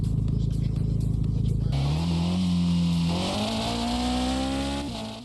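Car engine in the Street Racing Evo open-world racing game: a steady, buzzy idle-like drone jumps into a rising rev as the car accelerates, pitch climbing smoothly and holding loud before cutting off.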